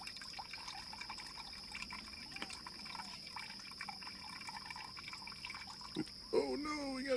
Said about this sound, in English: carefully pour off this liquid while keeping all the fruit in there